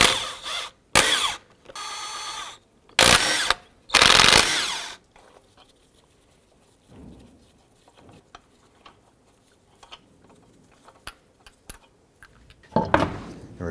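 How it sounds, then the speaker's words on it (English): Power tool on a 22mm socket removing lug nuts from a 2004-2009 Dodge Durango wheel: several short, loud bursts of whirring in quick succession, then quieter clicks and clanks of handling, with one more burst at the end. "Using a 22mm socket, let's go ahead and remove the lug nuts."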